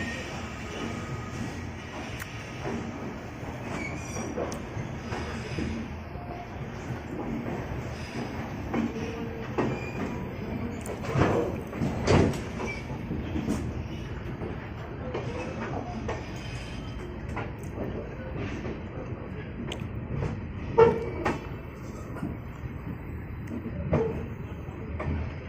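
The Jammu Mail passenger train runs from Delhi toward Katra, heard from inside the carriage as a steady rumbling roll with occasional clanks and faint wheel squeals, with muffled voices in the background.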